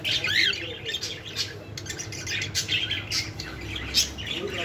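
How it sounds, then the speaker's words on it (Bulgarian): Parrots squawk and chirp at a busy market stall in Kadıköy, Istanbul, harsh repeated calls rising over crowd murmur at moderate distance, with faint talk nearby. "Виж, те папагали."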